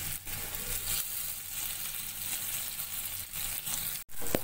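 Spring onions sautéing in a hot pan, a steady broadband sizzle running throughout at moderate level, with a brief drop near the end before the frying resumes.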